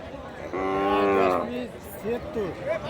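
A Sahiwal calf from across the border gives one long, drawn-out moo at a cattle market, followed by a few shorter, softer calls nearby.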